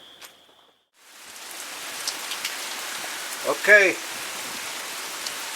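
Steady rain falls on an outdoor plot planted with Imperial Whitetail clover, a dense even hiss that starts after a short quiet moment and keeps going. Someone says one brief word at the start.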